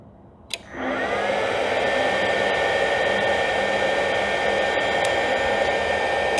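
A Rockwell 16-inch radial arm saw motor, driven by a VFD at 30 hertz, spins up after a click and settles into a steady, smooth whirring hum with a faint high whine.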